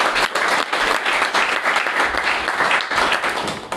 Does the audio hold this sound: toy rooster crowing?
no